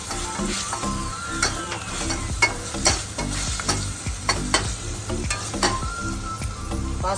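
Ginger garlic paste frying in oil for paneer curry, a steady close sizzle broken by repeated spoon scrapes and clacks against the pan.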